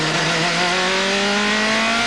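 A race car engine screaming at high revs after an over-rev that may have damaged a valve, a loud sustained whine that climbs steadily in pitch, heard up close with no talk over it.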